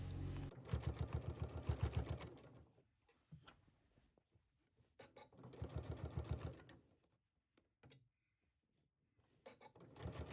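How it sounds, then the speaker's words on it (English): Sewing machine running two rows of top stitching along the lower edge of a denim skirt yoke, sewn in two fast bursts of rapid needle chatter separated by pauses and small clicks, close and alone. "we are going to sew 2 rows of top stitching to the lower edge of the yoke, catching that bottom hem"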